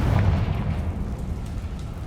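A Confringo fire spell from Hogwarts Legacy bursting in a single heavy, low explosive thump that quickly decays into a rumbling tail.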